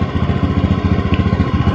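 A Honda Beat ESP scooter with a smooth starter idles steadily during a charging-system check in a workshop, a loud close engine with an even, rapid pulsing beat and no voices.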